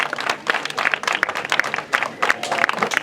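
A crowd applauding at an outdoor biodiversity day event in Possotomé, Benin, dense clapping in bursts that swell and dip across the clip, fairly loud and close.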